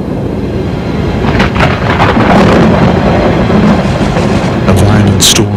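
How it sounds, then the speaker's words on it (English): A violent storm with howling winds on a cold, sunless world roars loudly and continuously, with gusting, rumbling surges and brief sharp crackles rising and falling throughout. "A violent storm on a cold and sunless world. Howling winds that defy logic and humble the intellect."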